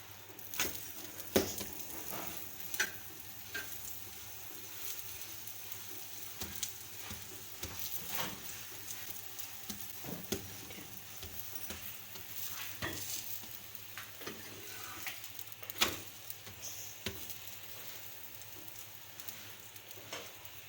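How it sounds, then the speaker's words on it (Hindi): A veg paratha cooks in ghee on a low flame, a faint continuous sizzle broken by light scattered taps and scrapes of turning and spreading. "अब पराठे के ऊपर वाली साइड पे घी लगाएंगे, ऑयल। उसको हल्की फ्लेम पे ही पकाएंगे।"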